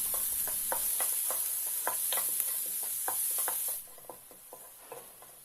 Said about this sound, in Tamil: பொடியாக கட் பண்ண ஒரு மீடியம் சைஸ் வெங்காயம் சேர்த்து நல்லா வதக்கிக்கலாம்.